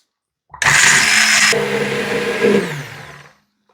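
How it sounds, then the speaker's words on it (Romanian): A blender roars loudly for about three seconds pureeing kiwi very finely, its pitch dropping as the contents thicken, then cuts off abruptly. "Și voi face din nou cu blenderul"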